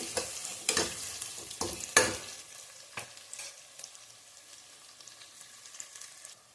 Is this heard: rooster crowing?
no